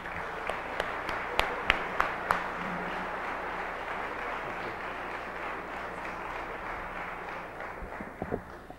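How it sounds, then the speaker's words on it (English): An audience at a school district's state of the schools address applauds to welcome the superintendent, a broad wash of clapping with a few sharp close claps standing out early, fading slightly toward the end. "So please join me in a round of applause welcoming Superintendent John Gundry."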